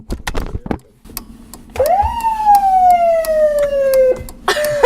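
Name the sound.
emergency vehicle sirens turned on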